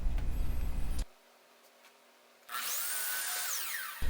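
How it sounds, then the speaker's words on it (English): Miter saw squaring the ends of western red cedar table legs, cut two at a time: a loud close whine, a pause while the blade spins down, then a second sustained cut ending abruptly. "Back at the miter saw, I squared one end of each leg, again working 2 at a time just for efficiency."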